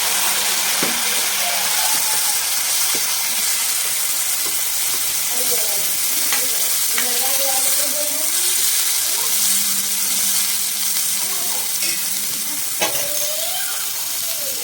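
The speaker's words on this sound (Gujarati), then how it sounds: "થોડી હળદર અને લાલ મરચું નાખી અને તરત જ છે એ પેસ્ટ નાખી દેવાનું" Spice paste with turmeric and red chilli sizzling in hot oil for palak paneer, a steady loud frying hiss throughout, with faint clinks and a few brief background sounds over it.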